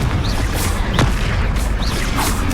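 Blasting-spell explosions from combat in Hogwarts Legacy, a brief burst of booming impacts and crackling effects over a constant loud game soundscape.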